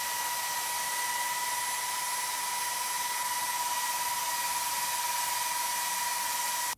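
A Salonia hair dryer blows hot air in a steady, loud, unbroken whoosh with a thin whine running through it, continuing alone for several seconds before cutting off abruptly.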